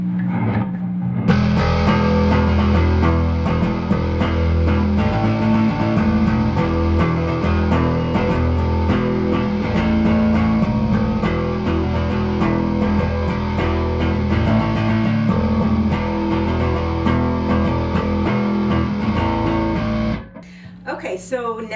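The bass line plays together with a Mesa amp, giving a thick, gritty, distorted tone. The riff drives continuously at a loud level for about twenty seconds, then cuts off, and brief talking follows.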